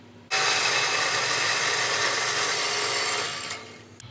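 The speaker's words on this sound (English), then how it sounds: "I got this horizontal bandsaw here at work at the shop, so just gonna cut a piece to bend." A horizontal bandsaw in a shop cuts through a piece of metal, a loud, steady, close grinding whine that starts abruptly, holds for about three seconds, then tapers off at the end.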